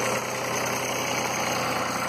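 An Allis Chalmers 5015 tractor engine idles smoothly with a steady, close, even mechanical hum and light rhythmic knock, with no talking.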